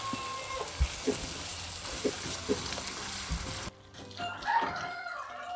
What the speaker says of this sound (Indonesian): Ini kita tumis sampai matang bumbunya teman-teman